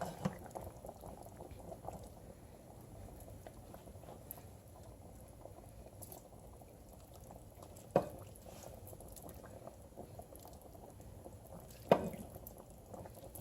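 Pork cacciatore sauce with onions bubbling in a pot as a ladle dips in: continuous soft boiling and liquid gurgle with two sharp clinks of the ladle against the pot, close and quiet, no speech.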